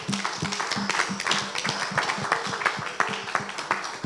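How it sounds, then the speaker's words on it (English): A round of applause for panelists at a roundtable discussion, with steady overlapping hand claps filling the room at moderate volume for several seconds and a faint voice running underneath. "please join me in giving them a well-deserved round of applause"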